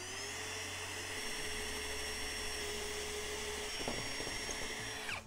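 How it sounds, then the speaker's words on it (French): A power drill with a bit bores a hole, a steady close whine with a low hum underneath and a brief shift in pitch near the end. "Avec le foret, on perce à l'endroit où on a fait notre trou."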